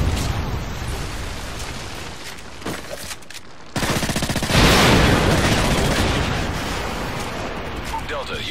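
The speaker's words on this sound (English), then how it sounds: "Friendly predator missile inbound." A predator missile strike in Call of Duty MW3 team deathmatch hits with a loud explosive burst partway through, and a long rumbling roar follows amid steady background gunfire.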